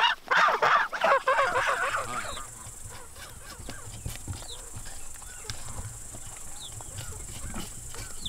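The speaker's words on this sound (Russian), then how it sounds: "Гусь все время меня норовит укусить." A farmyard goose close by at a village house, giving a few loud honking calls at the start, then quieter rustling and small animal sounds with occasional faint calls in the background.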